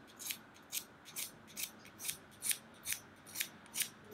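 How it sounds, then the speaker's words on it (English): A pencil sharpened against the blade of a Høvel pencil plane, giving a steady series of about ten crisp, close scraping strokes at an even pace, quiet and alone. "Spin the pencil slowly whilst planing the blade against the pencil to a point."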